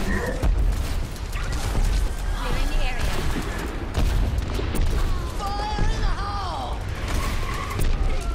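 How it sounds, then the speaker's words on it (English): Energy weapons blast continuously in the video game Overwatch, a loud, dense wash of firing and impacts with brief sweeping whines rising through it, while a player talks over the noise. "I'ma fire my lasers."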